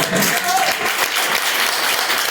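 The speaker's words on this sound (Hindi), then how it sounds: "शानदार तालियां बजाइए" Audience at a youth award ceremony applauding steadily, a dense, loud wash of clapping filling the whole moment without pause.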